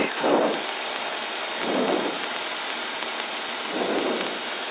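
A light aircraft's engine runs at full throttle for takeoff, a steady loud roar with periodic swelling rumbles and faint ticking rattles, heard from inside the cabin without talk.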